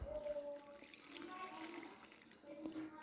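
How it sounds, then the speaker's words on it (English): Water runs steadily as it is poured into a dough mixer holding biga, making a faint, continuous splashing trickle for about three seconds. "I'm going to pour in a bit of the water"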